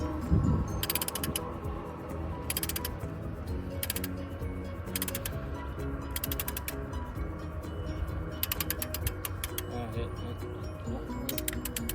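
A ratchet wrench tightening the wheel nuts while changing a flat tire, repeated quick bursts of clicking in short rhythmic runs, with people talking quietly in between.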